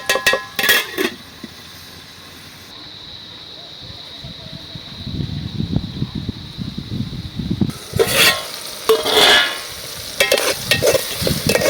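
Onion and tomato fry in a pan, with a steady sizzle that swells under stirring and clinking utensils, while a voice talks intermittently over it.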